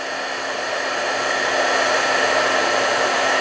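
A crafting heat tool blows hot air to set embossing powder, a steady, loud whirring hiss that holds unbroken for the whole stretch with no talk over it.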